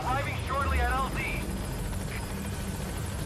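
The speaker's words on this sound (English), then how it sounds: "you can go into your iDroid to make the helicopter come and pick you up at spots" A helicopter hovers arriving in Metal Gear Solid V, its rotor and engine making a steady loud drone, with a short synthetic chirping effect at the start.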